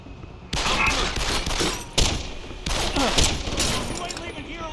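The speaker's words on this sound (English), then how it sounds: "Fucking gunshots!" Dense, continuous gunfire in Deus Ex: Human Revolution, a loud barrage of rapid shots with sharp bursts, with voices shouting underneath.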